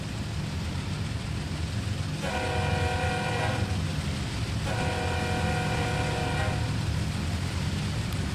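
A train in the Train Sim World 2 game on Horseshoe Curve heard from outside the cab: steady low engine rumble, two long multi-tone horn blasts, then a slow start with faint wheel clatter.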